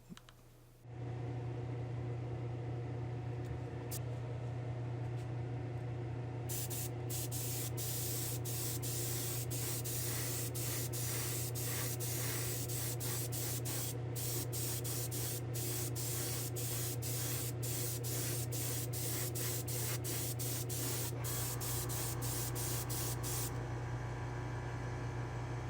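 Aerosol clear coat hisses steadily onto a Hot Wheels die-cast car for nearly the whole stretch, loud and close, with brief breaks and sputtering bursts in the spray over a low steady hum.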